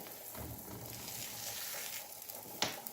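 Aloo paratha frying in oil on a flat pan, a steady soft sizzle with faint crackle, plus one brief sharp scrape or tap near the end.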